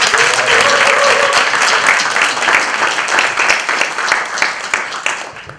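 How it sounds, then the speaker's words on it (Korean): An audience at a Justice Party proportional representation candidate event applauds: sustained, dense clapping from a seated crowd in a hall, strong and even, gradually loosening into scattered claps toward the end. "박수 한번 치도록 하겠습니다"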